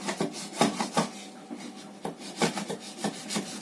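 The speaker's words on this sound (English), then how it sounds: "This chisel is a 10 millimeter curved chisel." A 10 millimeter curved chisel scraping and rasping across wood in repeated short strokes, close and fairly loud, with a steady irregular rhythm and no talking.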